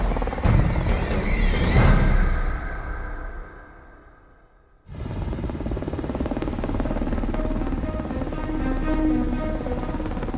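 A US Air Force Pave Hawk helicopter flying high over the Gulf of Mexico, a steady loud rotor and engine drone with broadband whine, briefly dipping then resuming strongly and continuing evenly without voices.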